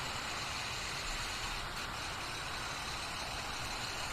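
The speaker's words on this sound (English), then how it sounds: "It's just going to be loud car noise." Steady, loud traffic noise from cars and trucks outside a house, a continuous engine rumble with a broad hiss that holds level throughout and has no speech over it.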